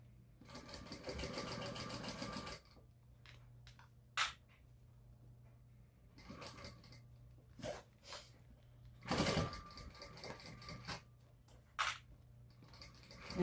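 Sewing machine top stitching around and across the top of a fabric purse with bias tape, running in a long burst at the start, then several shorter bursts and stops, fairly close.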